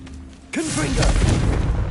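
A Confringo blasting spell explodes in the Hogwarts Legacy video game: a sudden loud boom a quarter of the way in, then a rumbling, crackling tail that stays loud to the end. A voice sounds briefly just as the blast hits.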